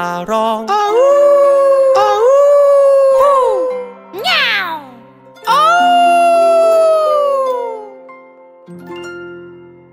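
Wolf howls in a children's animal song: long sliding howls rise and fall over a musical backing, with a cluster of shorter yelps in the middle before the howling resumes.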